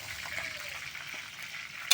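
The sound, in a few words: onion and chili frying in a pan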